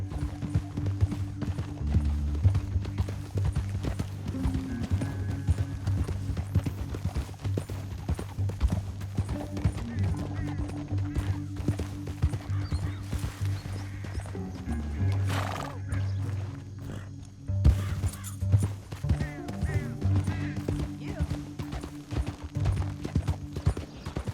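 Horses gallop in the video game Red Dead Redemption 2 with steady, pounding hoofbeats, loud and close, broken by several sharp neighs and whinnies throughout.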